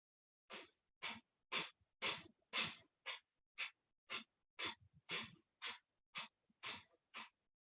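Rapid, forceful breaths during a yoga breathing practice, about fourteen sharp puffs in a steady quick rhythm, close and clear against silence.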